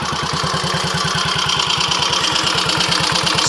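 Triumph Tiger Cub motorcycle engine running steadily, a loud, close, even rapid putter with a regular pulsing beat and no talk.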